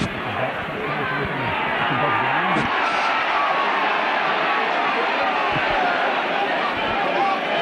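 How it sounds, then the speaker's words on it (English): Rugby league crowd at a 1989 Yorkshire Cup semi-final replay involving Castleford gives a sustained, distant roar of cheering and chatter, with a commentator's voice running over it. "Crowd really appreciating that by the Castleford fullback there."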